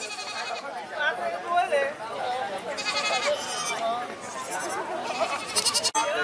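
Goats bleat repeatedly at a mountain livestock market at Cốc Ly, Lào Cai, sharp cries rising over a busy, chattering crowd, with people talking close by throughout.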